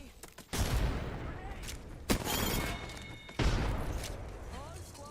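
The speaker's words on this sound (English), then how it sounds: "They're shooting at me." Gunfire in the Apex Legends video game: three loud sharp shots or bursts at separate moments, each followed by noisy echoing decay, with speech present.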